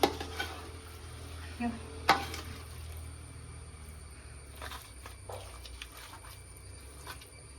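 Cassava (kappa) simmers in a pot while a utensil stirs it, giving soft scraping and a few sharp clinks against the pot over a steady low bubbling hum, moderately close.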